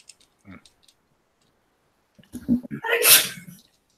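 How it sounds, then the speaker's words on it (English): A single loud, sharp sneeze close by, preceded by a brief faint vocal sound and quiet moments. "I just sneezed"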